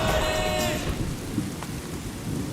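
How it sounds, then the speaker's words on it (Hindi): Rain and thunder sound effect: steady heavy rainfall hiss throughout with low rumbling thunder, loud and close, no voices. "बारिश।"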